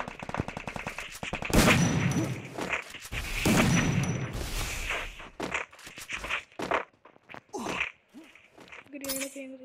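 An MP40 submachine gun fires in a video game, in two rapid bursts close up and then a run of scattered shots and thuds. Game speech is mixed in underneath.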